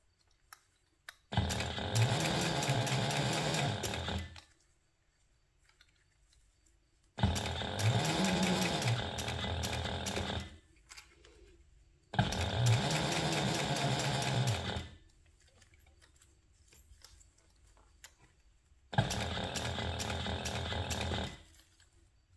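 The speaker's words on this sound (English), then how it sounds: "I'm just going to top stitch this using a 1/8 inch seam allowance" A sewing machine top-stitches a zipper gusset on a toiletry bag, running in four steady buzzing bursts of about three seconds each, separated by short pauses of near silence.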